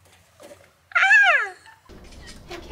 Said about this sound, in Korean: 철창에 갇혀있는 고양이를 보고 계십니까?